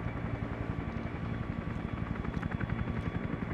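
A helicopter in the sky throbs with steady rapid rotor chop and a constant engine drone, loud and close throughout.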